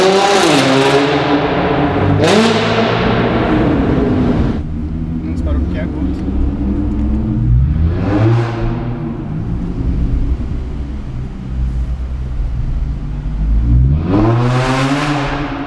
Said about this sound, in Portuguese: Aí o escapamento está aberto, eu estou no modo manual de marcha